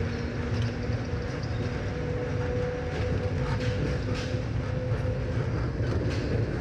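Metro Mover automated people-mover train running at a station, a steady loud rumble and rolling hum with faint clicking, continuous throughout with no talk.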